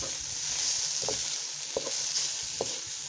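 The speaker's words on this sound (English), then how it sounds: "This is called Jamaican fried cabbage" Jamaican fried cabbage being stirred in a pan, with a steady hiss of frying under a few soft scraping stirs, close and fairly quiet with no voices.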